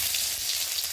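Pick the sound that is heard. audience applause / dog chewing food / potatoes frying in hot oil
potatoes frying in hot oil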